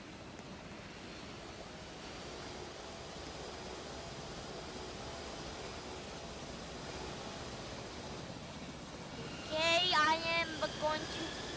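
A Delta airliner's jet engine in a Roblox flight simulator game drones as a steady, moderate hum throughout, with a brief burst of speech near the end.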